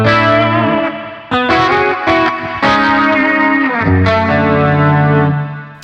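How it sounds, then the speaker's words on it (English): Guitar notes and chords played through a Zoom MS-70CDR MultiStomp pedal on a hall lo-fi reverb setting, loud and close, each attack blooming into a washy, smeared tail. "This is a normal Hall lo-fi reverb."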